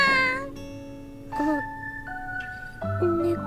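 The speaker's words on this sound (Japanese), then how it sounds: "猫にゃ。" A cat in The Fruit of Grisaia visual novel gives several short, clear meows in sequence, each a tonal, slightly falling cry separated by brief pauses.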